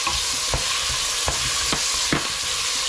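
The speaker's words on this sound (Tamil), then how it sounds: "இப்போ நல்லா ஃப்ரை ஆகி கொண்டு வர நேரத்தில் 2 பெரிய தக்காளி பழத்தை சேர்க்குறோம்." Green chilies, shallots and tomatoes fry in a pan with a steady close sizzle, broken by four or five scraping stirs at roughly even intervals.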